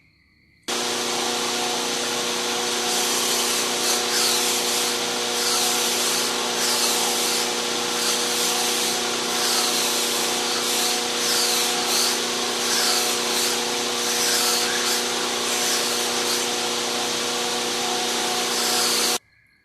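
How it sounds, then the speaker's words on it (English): A slack belt grinder rounds off the corner of a knife handle, a steady loud abrasive hiss and whir running unbroken for most of the time with no talking. "set it up so it's on a slack belt grind and hit the corner of this off and kind of round it off just a little bit"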